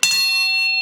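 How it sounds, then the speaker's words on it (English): A bronze Vajra bell is struck once during a Buddhist teaching, giving a bright metallic strike that settles into a clear, sustained ring with many steady overtones, close and loud. "And then when I ring the bell"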